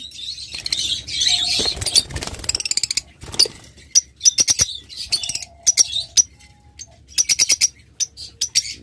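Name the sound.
pet birds chirping, pairs sold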